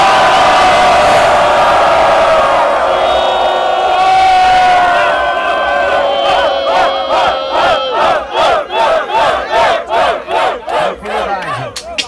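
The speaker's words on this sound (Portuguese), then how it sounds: "Só quem gostou do meu mano Choice, faz barulho e bota a mão pro alto" A large crowd at a rap battle final roars and shouts together, swelling loud, then breaks into rhythmic chanting bursts in a steady beat toward the end.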